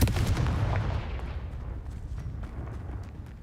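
A Confringo blasting spell explodes in Hogwarts Legacy, a heavy booming blast at the start that rolls off into a long rumbling decay with faint crackles.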